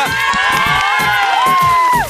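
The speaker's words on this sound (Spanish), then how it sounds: "¡Aplauso para ella!" Audience at a school Student Day show cheers and whoops loudly for a student singer, a continuous close crowd roar with shouting voices throughout.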